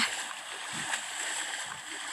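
A game character in Ark plunges into water, producing a soft, muffled splash followed by a steady underwater rushing and gurgling, faint and continuous throughout.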